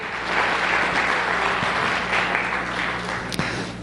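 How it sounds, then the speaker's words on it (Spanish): A church congregation claps during a Spanish-language sermon, giving the Lord a round of applause in a steady, full wash of clapping that fills the hall without speech. "Dale un aplauso al Señor por eso, porque estamos aquí para creer."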